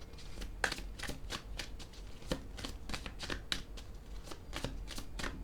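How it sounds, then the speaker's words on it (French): Tarot cards are drawn and shuffled in a quiet room, giving a long run of crisp riffling flicks that repeat every fraction of a second. The sound is close and fairly faint, with no talking over it. "Je tire une autre carte."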